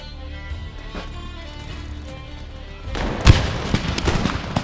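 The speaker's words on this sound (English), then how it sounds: "Let's watch the first volleys that get shot off." Musket volleys fire in Empire Total War with the Darthmod mod, a burst of gunfire cracks and booms arriving after a few seconds of quieter battlefield ambience and continuing in scattered, overlapping shots.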